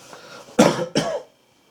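A narrator's voice imitates a parrot coughing loudly like a man, producing two harsh, close coughs in quick succession, then silence.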